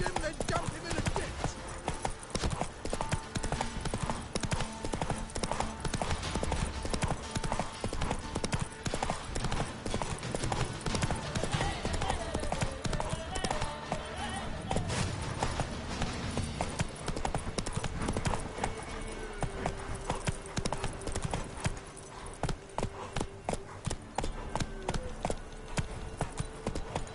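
Roach, a horse in The Witcher 3, gallops with rapid, rhythmic hoofbeats that continue steadily over a game music score, close and clear.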